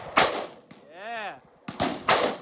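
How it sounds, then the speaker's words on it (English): Sharp, loud gunshots from a Remington 870 pump shotgun fired outdoors at a shooting range, with a few blasts separated by short gaps and a whistling tonal sweep in between. "Did pretty good with a shotgun today."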